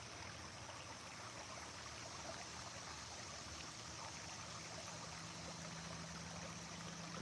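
A mountain stream flows in a steady, even rush of water, constant and fairly close, with no voices over it.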